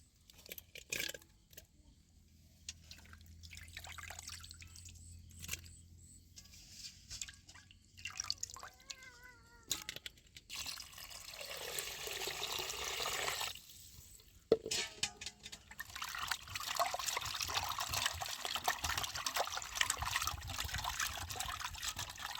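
Water drips and trickles on and off at low volume while fish is rinsed, then turns into a steadier running stream with splashing for the final several seconds.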